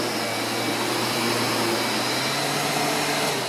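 Riccar 8955 upright vacuum cleaner running on carpet, a loud, steady motor whine and airy roar held unbroken from start to finish, close up with no voices.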